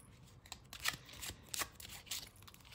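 Oracle cards being shuffled by hand, a series of quick riffling and sliding bursts at a soft, close level.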